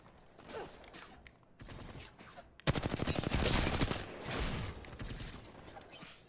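Automatic gunfire in a firefight in Apex Legends: after a few scattered shots, a rapid sustained burst of rattling fire rises loud and close, then tapers into lingering mechanical clatter.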